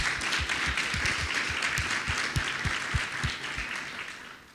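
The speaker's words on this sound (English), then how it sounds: "A round of applause." A conference audience applauds steadily, many hands clapping together in a dense wash that gradually fades toward the end.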